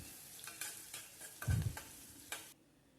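Onions fry quietly in hot oil in a pan while a utensil stirs and scrapes a few times, with a soft thump near the middle.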